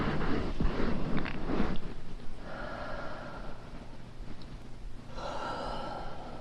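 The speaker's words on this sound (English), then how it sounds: "Really take some deep breaths." Slow, deep human breaths, a few long inhales and exhales close to the microphone during a guided relaxation, soft and airy with quiet pauses between them and no talking.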